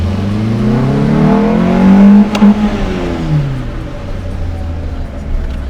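An off-road vehicle on air suspension with BF Goodrich tyres is driven along while its engine revs up, loud and close from inside the cab, the note swelling and then settling into a steady drone.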